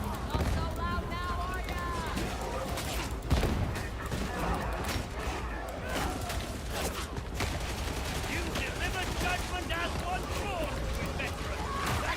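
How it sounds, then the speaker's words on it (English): Grenades burst amid rapid gunfire in a video game battle, a dense, continuous barrage of booms and cracks with a voice talking over it. "Drop a couple grenades."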